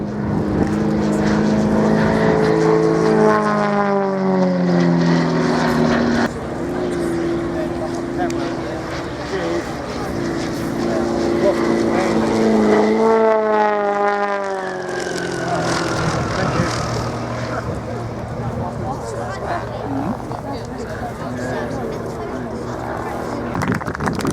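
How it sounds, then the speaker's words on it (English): Aerobatic propeller aircraft at an airshow climbing and manoeuvring at full power, a loud droning engine note that rises and falls in pitch over a long stretch while a commentator talks over a public address. "Still running with the full power on."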